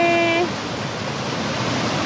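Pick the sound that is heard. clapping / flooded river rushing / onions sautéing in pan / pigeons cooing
flooded river rushing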